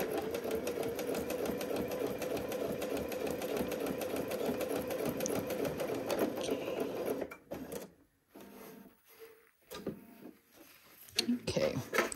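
A sewing machine stitches fabric in a fast, steady mechanical rattle up close, then stops and restarts in short bursts while a person speaks quietly.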